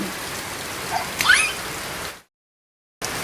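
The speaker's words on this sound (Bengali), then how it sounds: "আমরা বৃষ্টিতে ভিজতে পারি না" Rain falls steadily outdoors as a soft, even hiss for about two seconds, then cuts out briefly before resuming.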